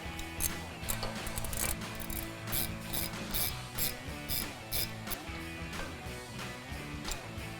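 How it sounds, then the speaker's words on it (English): A hand ratchet tightening a T30 screw on a 2019-2024 Chevrolet Silverado 1500 brake rotor, rapid clicking pawl bursts in uneven runs, close and fairly quiet. "just grab a ratchet and tighten that down"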